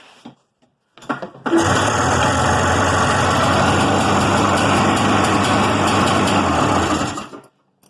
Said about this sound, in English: that's pretty good idle set on it